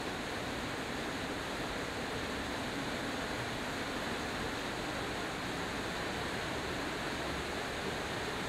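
Clear water of Avalanche Creek in Glacier National Park rushes past in a continuous, even, faint hiss of flowing stream, with no voices.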